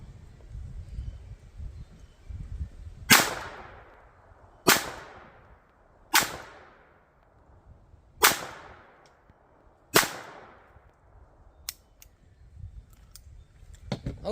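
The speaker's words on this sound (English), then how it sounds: "They all fired fine. We're going to follow that up with the Taurus PT22." Taurus PT22 pistol fired five times at roughly even intervals, each a sharp close crack with a short decaying tail, followed by a few fainter clicks over a low outdoor rumble.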